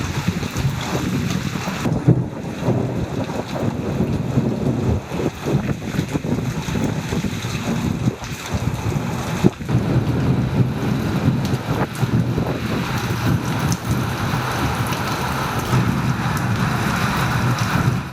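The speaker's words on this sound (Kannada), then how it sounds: "ಯಾದಗಿರಿ ಜಿಲ್ಲೆಯಲ್ಲಿ ಬಿರುಗಾಳಿ ಸಹಿತ ಭಾರೀ ಮಳೆಯಾಗಿದೆ" A heavy rainstorm with strong wind in Yadgir district makes a dense, continuous roar, with gusts buffeting the microphone and rain rushing steadily throughout, and no voices.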